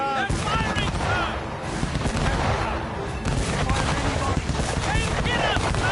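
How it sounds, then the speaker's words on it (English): Enemy ship cannons firing in a PS4 naval battle game, a dense, continuous barrage of booming shots and crackling blasts that stays loud throughout, with shouted voices mixed in. "They're firing, sir!"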